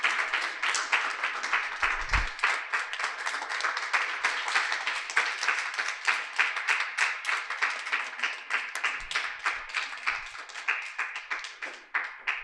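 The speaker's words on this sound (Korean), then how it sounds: "큰 박수로 맞이해 주시면 고맙겠습니다." An audience at an artist talk for a photo exhibition applauds to welcome two artists, a long spell of sharp, distinct hand claps with a strong rhythmic pulse that stays loud and close throughout.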